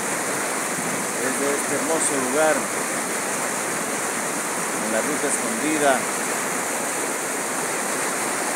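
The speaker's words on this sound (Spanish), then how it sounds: "Junto al río Giganta, que más acá abajo se une con el río Pataquí," Continuous rushing flow of the Giganta river, a steady broadband roar that persists throughout while a voice speaks over it.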